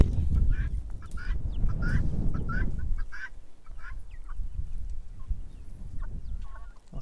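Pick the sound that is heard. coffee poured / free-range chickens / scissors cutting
free-range chickens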